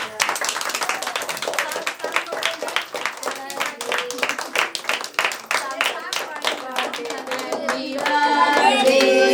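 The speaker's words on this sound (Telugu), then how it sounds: "క్లాప్స్." A group claps together at an indoor birthday gathering, with brisk, uneven hand claps that continue steadily and grow fuller toward the end, while people talk and sing underneath.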